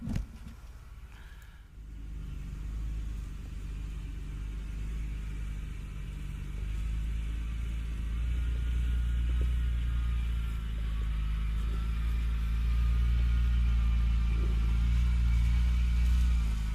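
Off-road vehicle on Falken Wildpeak AT3 all-terrain tires crawling over small rocks, heard as a low, steady engine rumble that builds slightly over time, with faint crunching and no talk.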